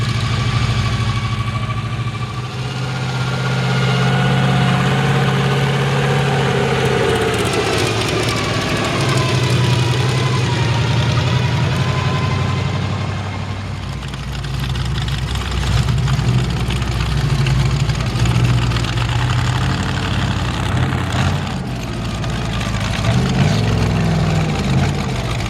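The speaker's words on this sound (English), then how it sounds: "There's the Chevy coming to the staging area as well." A Chevy mud bog truck rumbles at idle in the pits ahead of a swamp bog show, its loud, lumpy engine note holding close and steady throughout with slight rises and dips, and no voices over it.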